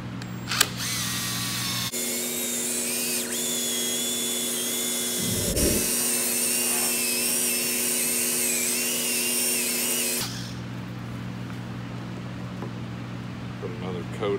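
A power drill with a buffing attachment whirs loudly and close as it polishes headlight restoration compound onto a car headlight, running steadily for several seconds, briefly bogging, then cutting off to a quieter hum.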